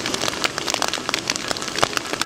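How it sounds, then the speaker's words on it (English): Rain falls on a surface, a steady close patter of many drops with scattered louder taps and no voices. "the sound of the rain is thus soothing"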